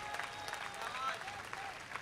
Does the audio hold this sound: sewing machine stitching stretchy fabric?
no